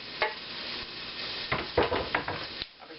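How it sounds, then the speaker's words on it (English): Extra lean ground beef stir-fries with onion and garlic for a camping meal, a loud continuous sizzle broken by repeated scraping and stirring strokes, briefly quieting near the end. "I'm going to stir fry up my extra lean ground beef"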